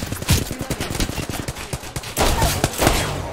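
Rapid bursts of gunfire in a team shooter video game match, loud and close, with clustered shots and brief pauses between volleys, including a denser stretch toward the end.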